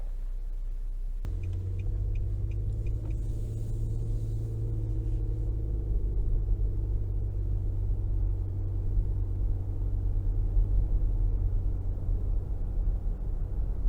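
A 2023 Nissan Murano Platinum drives on the road, a steady low cabin rumble of engine and tyres after a brief click, with a faint chime early on.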